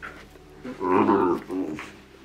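An excited rescue dog grunts and snorts in low, pig-like bursts, a short close run of rough vocal noises that rises in the middle and tapers off.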